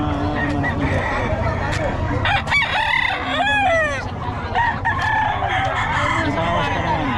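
Roosters at a gamefowl market crow loudly and repeatedly, their cock-a-doodle-doo calls rising over clucking hens and a busy background of voices.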